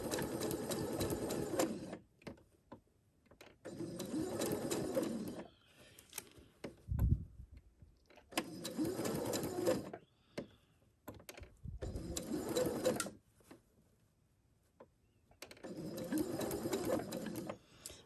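A sewing machine stitches curved quilt fabric pieces in short bursts of a second or two, separated by pauses and faint handling noises, fairly quiet and close, with no talking.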